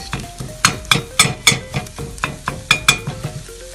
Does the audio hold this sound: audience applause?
no